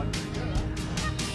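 A pet goose honks loudly and repeatedly at close range, with about five or six strong bursts over a little more than a second and no talk.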